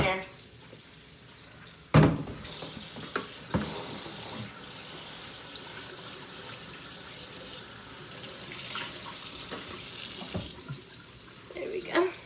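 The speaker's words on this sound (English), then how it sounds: "I'm gonna go ahead and wash this cutting board too so that way I can have it for the onion here." Tap water runs into a kitchen sink while a cutting board is washed before chopping onion for beef fried rice, a steady splashing hiss with a few louder knocks and clatters of the board near the start and end.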